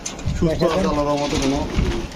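Red, lively pigeons in a pigeon seller's coop give a throaty cooing call in a short burst, heard close up while someone talks over it.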